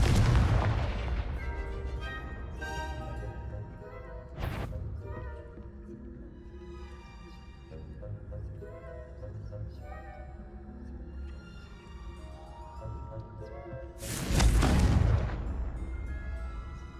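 Confringo fire-spell blasts in the video game Hogwarts Legacy: a loud booming explosion at the start, a sharp burst midway and another heavy blast near the end, set over a continuous game music bed.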